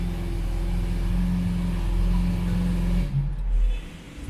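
A Lamborghini Aventador LP720-4 supercar engine idles with a loud, steady low rumble, then cuts off abruptly near the end, leaving a brief quieter tail.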